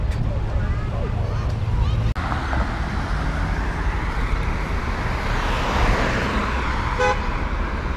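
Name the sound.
highway traffic in Beirut, Lebanon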